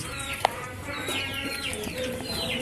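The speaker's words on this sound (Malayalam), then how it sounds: "കോഴിയാണ്" A laying hen clucks in a backyard poultry setting at a household that keeps chickens and ducks, soft repeated clucks with a sharp short call, heard close over quiet ambient background.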